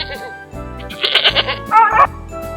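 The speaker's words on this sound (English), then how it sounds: "That is a sound of a goat." A goat bleats loudly and close in several wavering calls, with short quiet gaps between them, in a farm-animal lesson for kindergarten children.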